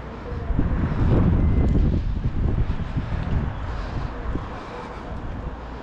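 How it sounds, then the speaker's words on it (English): A breezy gust buffets the microphone on a residential street in Blackpool, making a loud, rumbling roar that swells early and then eases into a steadier rush, with no clear speech. "A bit breezy, but it's not cold."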